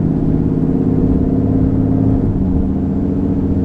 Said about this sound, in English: this thing sounds good. I mean, it almost sounds like an old muscle car